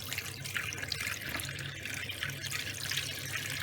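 Water poured and strained off lime-soaked pumpkin pieces for crisp pumpkin preserve, a steady close splashing trickle running continuously without pause.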